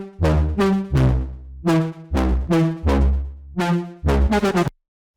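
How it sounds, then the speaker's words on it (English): Brassy synth lead for a future house track, a loud, bright riff of short punchy stabs in a bouncy rhythm, about a dozen notes alone before it cuts off. "For this project we decided to go for a brassy kind of lead"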